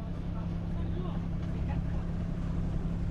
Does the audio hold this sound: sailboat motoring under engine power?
yes